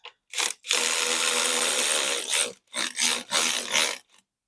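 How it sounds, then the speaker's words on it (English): A cordless ratchet whirs in several bursts, one long run then shorter pulses, as it spins bolts out on a 2025 Harley-Davidson Lowrider S, close and loud with pauses between. "once you break it loose by hand, you can grab a nice little cordless ratchet"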